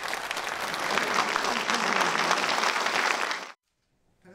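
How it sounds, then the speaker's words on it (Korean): Applause in the National Assembly chamber as the president and the opposition leader shake hands after a budget address, a broad, steady clatter of many hands that swells, then cuts off abruptly into silence. "두 사람이 다시 악수를 나눌 땐 박수 소리가 커졌습니다."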